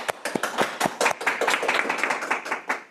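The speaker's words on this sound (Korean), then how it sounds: "큰 박수로 모시겠습니다" An audience at a Korean AI patent lecture claps to welcome the next speaker. The applause is moderate, with distinct individual claps standing out near the listener and thinning toward the end.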